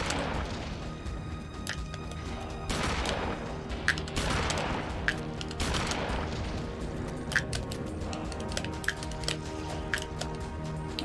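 Rapid bursts of gunfire in the video game Eternal Darkness, sharp cracks repeating across a dense, loud mix of game effects and music, with no talking.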